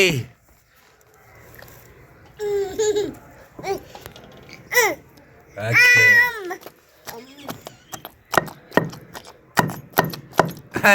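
Onion being pounded for chutney, with a run of sharp, close thuds that speed up toward the end, mixed with chatter, babble and a laugh from people nearby.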